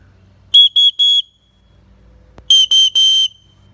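A small survival kit whistle, then a second whistle built into a clip, each blown in three short shrill blasts. The two bursts are separated by a pause with faint outdoor background.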